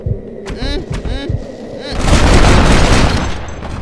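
Gunfire from the Western video game Red Dead Redemption, with a few sharp shots early on, then a dense burst of loud, rumbling blasts that fills the second half over a low in-game hum.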